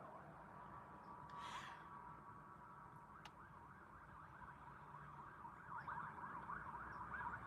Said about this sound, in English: And the occasional siren, here it goes.